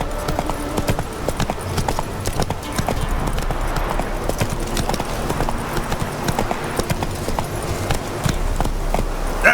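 Roach, the horse in The Witcher 3, trots along with a steady clip-clop of hooves, close and clear over a low background.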